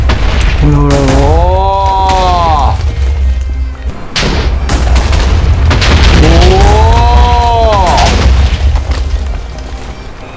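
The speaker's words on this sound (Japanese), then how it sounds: "TNT でかなりね爆破してったんですけど" TNT blocks exploding in the video game Minecraft while clearing a hill, several loud deep booms with rumbling blasts, a person talking between them.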